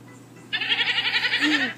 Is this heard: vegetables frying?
no